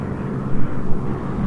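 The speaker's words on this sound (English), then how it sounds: "I'm hearing a plane, don't know where it is." Propeller aircraft in the War Thunder tank battle game, a loud low droning engine roar with slight swells, steady and close, heard alone without talk.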